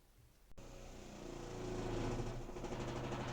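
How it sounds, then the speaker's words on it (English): A grinder sands the edges of a leather key chain belt clip: a click, then a motor whir that builds to a loud, steady close grinding hum. "I'm gonna take it to the grinder to fix the edges"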